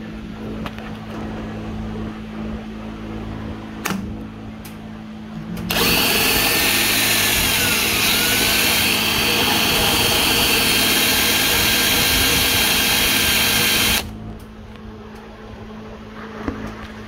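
A rotary rasp in a power tool grinds against a pipe with a loud, sustained whir lasting about eight seconds, with a quieter ambient hum and a few clicks before and after.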